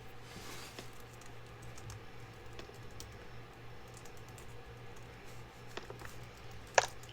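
Quiet, steady typing on a computer keyboard, soft key patter running throughout with one sharper click near the end, alone against a low constant hum.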